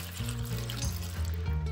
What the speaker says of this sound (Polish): zalewamy wodą